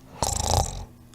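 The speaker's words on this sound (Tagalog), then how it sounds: "Sobrang lakas ng hilik nito ah." A single loud snore with a rough rasp and a snort, coming from a sleeping mochi character in the Roblox game Find the Mochi, close by, short, and heard alone.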